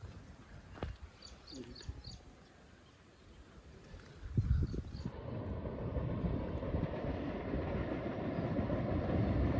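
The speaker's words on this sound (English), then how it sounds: "you can see a train rolling over the track." A train rolls along a track beside a lake. Wind buffets the microphone throughout, and from about halfway through a broad, steady rumble rises and keeps building toward the end.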